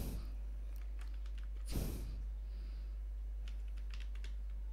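A computer keyboard typed on while entering PHP code, with clusters of soft, close key clicks, a brief louder rustle partway through and steady low hum underneath.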